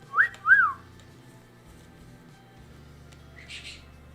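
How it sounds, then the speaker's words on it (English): A pet bird gives two short rising whistles, clear and close, followed by a quieter chirpy whistle a few seconds later over a low household hum. "Are you whistling at me, Beelzebub?"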